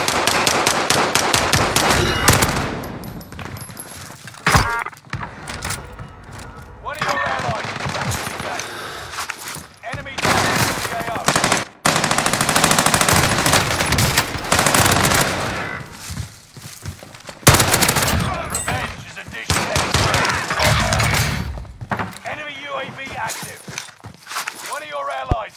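Rapid bursts of automatic gunfire and single shots ring out in a Call of Duty match on the Caldera map, loud and clustered in several volleys, with players talking over the action.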